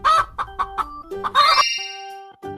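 A chicken clucking up close in a quick run of loud, pitched clucks, followed by a longer drawn-out call and then one more short cluck.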